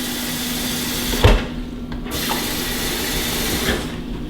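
Two cups of water pour steadily into a container for pickled egg brine, a continuous close splashing rush with a sharp knock near the start and no speech over it.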